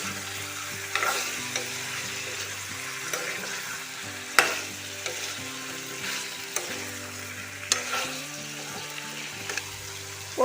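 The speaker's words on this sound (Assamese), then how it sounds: "এনেকৈ 5 মিনিট সময় ভাজি থাকিম" Chicken and cut potatoes fry in a pan for pepper chicken, giving a steady close sizzle broken by occasional sharp knocks and scrapes of stirring.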